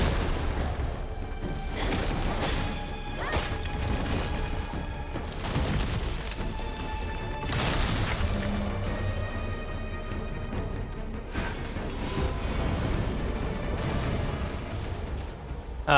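Burning Flames spell attacks in Wuchang: Fallen Feathers during the Reborn Treant boss fight at Soulwood, a dense, continuous wash of booming fire blasts and crashing impacts that surges repeatedly with no speech.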